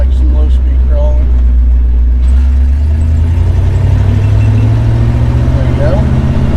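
A 53-year-old truck pulls away in second gear: a steady, loud low engine drone fills the cab from start to finish, with the pitch climbing smoothly as it gains speed.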